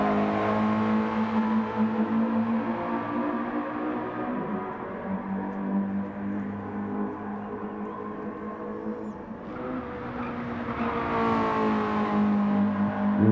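A race car engine in Gran Turismo 7 at Laguna Seca drones steadily, then drops off and revs back up through the corners, a continuous loud whine without talk.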